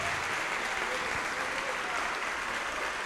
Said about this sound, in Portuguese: E vamos aplaudir ao Senhor Jesus por cada vida que está chegando.